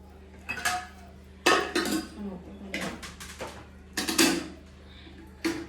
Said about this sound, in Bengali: আমিও এবার ভাতটা বেড়ে নিচ্ছি